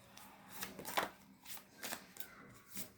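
Tarot cards are shuffled by hand in a few quick, soft papery riffles spread over a few seconds, close and quiet.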